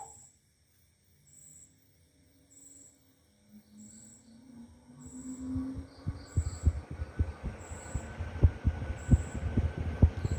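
A restored 1970s CG High Breeze 48-inch ceiling fan fitted with new bearings, starting from near silence and spinning up into a low steady whoosh with rhythmic soft thumps as it gains speed, close by with no voices.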